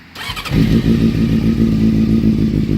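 Honda CBR 600 motorcycle engine cranks and catches after a brief click, then settles into a loud, steady idle with a lumpy, close-up rumble and faint revving, no voices.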